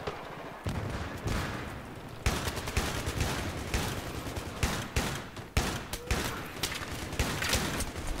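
Dense, rapid gunfire from Battlefield 3 conquest combat, repeated bursts of shots and booming impacts crackling continuously at close range with little pause.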